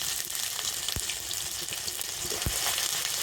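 Panch phoron and ginger paste fry in hot oil in a kadai. A dense, continuous sizzle carries a couple of sharp utensil knocks. The sound is close, with no speech.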